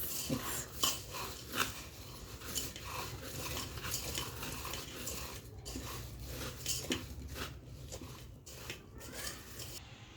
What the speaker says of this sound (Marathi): आता हे मिक्स करायचं